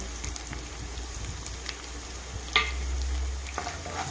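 Mustard seeds and other tempering seeds sizzle steadily in hot oil with garlic and dried chillies for a bitter gourd pickle, a continuous close crackle with a sharper pop near the middle.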